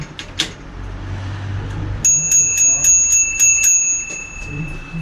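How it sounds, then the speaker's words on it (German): A bicycle bell on a Btwin Riverside 100 rings close by in a rapid run of about eight sharp, bright dings, after a moment of quiet room noise with a few small knocks. "Glocke funktioniert."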